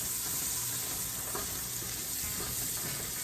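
Butter sizzling steadily in a pan with leeks, a continuous close frying hiss with faint clatter underneath and no pauses.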